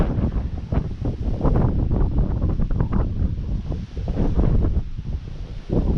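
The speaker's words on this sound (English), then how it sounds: "Wind's starting to pick up a little bit." Wind gusts on a mountain hike at Elk Knob State Park, buffeting the microphone in loud, uneven rumbling bursts with rustling underneath, continuing throughout without talk.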